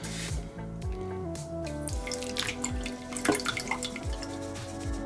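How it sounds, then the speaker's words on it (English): Water sloshing and dripping in a pan while sand is panned for gold, irregular wet splashes and trickles close up. A faint steady tone runs underneath, and no one speaks. "just keep panning through this sand"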